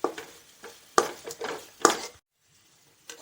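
A spoon scrapes and stirs masala powder in a hot pan in a series of short, close, irregular scraping strokes, a few sharper clinks among them, ending in near silence with one last faint touch.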